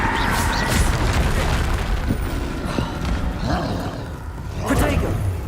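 Spell impacts from the video game Hogwarts Legacy land as heavy booming bursts and rumbling blasts in a busy duel. A voice shouts over the effects.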